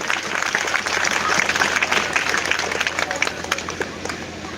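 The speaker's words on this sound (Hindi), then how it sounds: "गुजरात के लोग यार ताली बजाओ तो ताली की तरह बजाओ" Seminar audience breaking into sustained, dense applause, many hands clapping together at moderate loudness for several seconds without a break.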